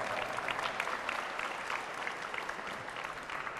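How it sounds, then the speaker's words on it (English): Audience applause at the Creative Commons Qatar launch event, a steady, moderately distant patter of many hands clapping that carries evenly through the whole stretch. "let's give them a round of applause."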